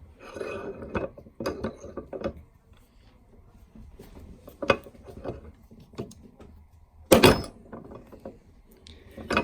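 A Harbor Freight 1-ton arbor press drives a punch through a coin, giving scattered mechanical clicks and ratcheting clunks with a sharp, loud snap near the end as the punch breaks through.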